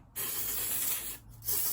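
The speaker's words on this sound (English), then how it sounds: "I'm gonna spray for my opposite part" Hairspray sprayed onto hair during curling-iron styling: two long, steady aerosol hisses, close and fairly loud, split by a brief pause, with no talking.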